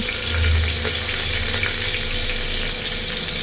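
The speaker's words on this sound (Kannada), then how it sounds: "ಈರುಳ್ಳಿ ಚೆನ್ನಾಗಿ ಗೋಲ್ಡನ್ ಬ್ರೌನ್ ಆಗೋವರೆಗೂ ಈ ರೀತಿಯಾಗಿ ಫ್ರೈ ಮಾಡ್ಕೊಳ್ಳೋಣ" Chopped onion fries in oil, giving a loud, continuous sizzling hiss with a low rumble underneath throughout; no talking.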